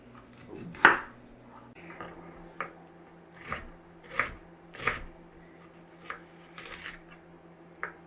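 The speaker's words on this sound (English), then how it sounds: "I'm just going to slice it before I dice it." Knife slicing through potato on a cutting board in a home kitchen, with about ten separate soft cuts and taps spaced irregularly over a low background hum, close and fairly quiet.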